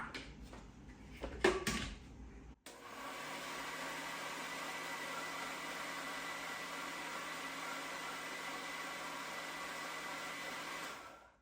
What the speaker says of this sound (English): Just make sure everything is ground up and give it one more whirl.